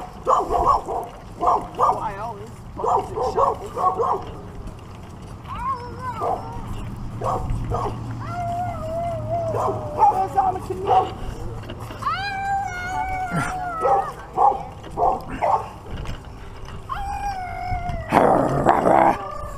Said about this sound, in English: look at those mean old dogs